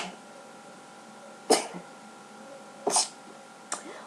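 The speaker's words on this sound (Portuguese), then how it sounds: "Vai ficar o vídeo com espirro no meio ainda" A sneeze, heard as sharp bursts at about 1.5 and 3 seconds with a smaller one near the end, close and fairly loud over a quiet steady hum.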